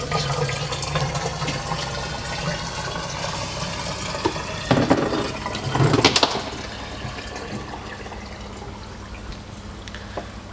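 Water and muck rushing through a valve into a koi fry tank, a continuous close gush over low mechanical hum that swells into a louder turbulent surge midway before settling back to a steady flow.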